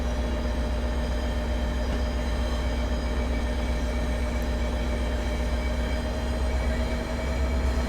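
A locomotive running on rails in the train simulator game Train Sim World 3, a steady loud rumbling drone with a constant engine hum and no talk.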